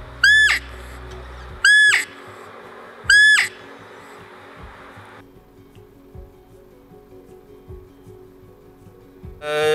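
Three loud, high whistling calls from a roe deer lure whistle used for buck hunting, spaced about 1.5 seconds apart, each sweeping sharply, then quiet low background rumble and faint rustling.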